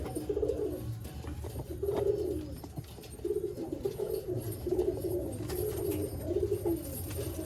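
Restless Malwai pigeons coo repeatedly in a Baruipur loft, a series of close, soft rolling coos in an irregular rhythm against a quiet background.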